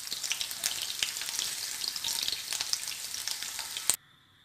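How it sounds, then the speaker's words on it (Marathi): Bell pepper and onion fry in a pan, making a steady close sizzle with small spitting crackles that stops abruptly near the end, with no talking. "आधी आपण ढोबळी मिरची आणि कांदा फ्राय करून घेणार आहोत"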